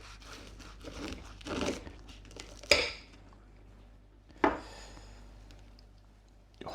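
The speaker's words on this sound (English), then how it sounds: "Let's get this thing cut open and have a look at the inside of it." Cutlery cutting open a cooked veggie Wellington on a plate, with soft scraping and crinkling of pastry and two sharp clinks of metal on the dish, close and with no talking.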